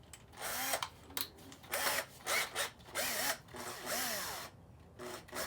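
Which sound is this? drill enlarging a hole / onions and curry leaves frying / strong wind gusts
drill enlarging a hole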